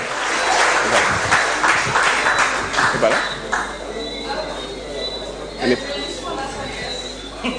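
Sustained audience applause greets an award winner at a Guadeloupe sports trophy ceremony, strongest at first then thinning, with scattered chatter mixed in.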